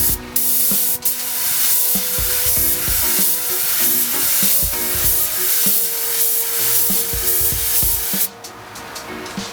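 A spray gun lays a coat of candy paint onto a panel, a loud steady hiss that runs almost without pause, broken by a brief stop near the start and a drop at the end.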